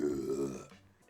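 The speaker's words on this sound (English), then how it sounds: "Sounds like you burped and it got stuck" A person makes a loud, drawn-out burp-like croak that lasts about half a second, then trails off into quieter rumbling.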